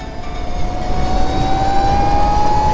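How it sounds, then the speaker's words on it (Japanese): Motorcycle engine heard while riding at a motorcycle festival, a steady, loud droning hum with a rising tone as the bike accelerates, close and continuous under wind rumble. "やっぱりバイクだからね、こういった音も大事ですからね、耳から入る音。"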